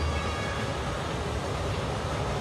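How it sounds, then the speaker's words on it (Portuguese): A train in the video game Forgotton Anne rumbles in a steady, dense, loud roar that runs unbroken throughout, with no distinct clacks standing out. "Tem que parar o trem."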